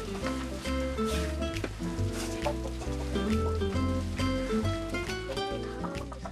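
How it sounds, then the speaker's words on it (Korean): Farmyard chickens cluck steadily while pecking at their feed on a snowy mountain homestead in Hongcheon, Gangwon, Korea. Dense, continuous clucking is heard close by for several seconds. "정말 닭이 긴장을 풀었네요."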